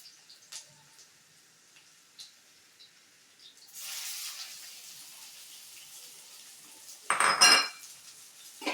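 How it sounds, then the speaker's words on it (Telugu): Pieces of taro root tip into a pan of fried garlic, with light clinks of utensils, a burst of rattling and sizzle around the middle, and a louder scrape and clatter near the end. "వెల్లుల్లిపాయలు కొంచెం వేగాక చామదుంపల ముక్కలు వేసేస్తున్నాము."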